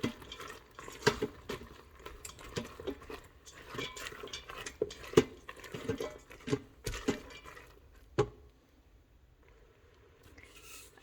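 A spoon stirs garam masala and coriander powder into a basic spice mix inside an Instant Pot for spinach and bottle gourd, giving quiet, irregular clinks and scrapes against the metal pot with no talking.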